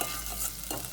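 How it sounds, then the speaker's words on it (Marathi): Onion, tomato and green chili frying in a pan for Goan crab xec xec, a steady close sizzle with stirring scrapes across the whole second, no voices. "सो सगळें एकी पाटी आमी आतां फ्राय कोताय."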